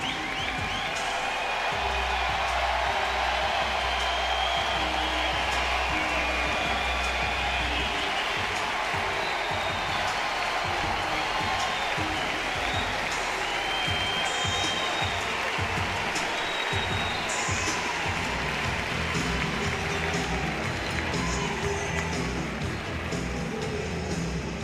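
Crowd applause for LSU pitcher Kason Evans at Alex Box Stadium during an Oklahoma vs LSU college baseball game, a broad, steady wash of clapping and cheering from a large crowd, sustained throughout at a distance.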